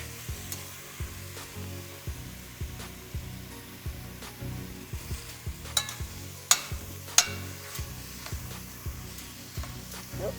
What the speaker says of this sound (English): and the tomatoes are going in there as well. Give them a nice stir.